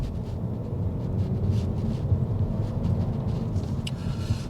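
Interior of an Audi A4 40 TFSI accelerating, a steady low engine and road drone inside the cabin with no speech.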